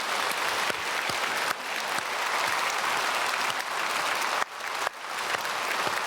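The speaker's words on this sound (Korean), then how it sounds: "우리 선교사님들 향해서 한번 박수해 주시면 감사하겠습니다" Church congregation applauding for missionaries during a Sunday worship service, a sustained, dense wash of clapping from a large crowd that dips briefly twice before continuing.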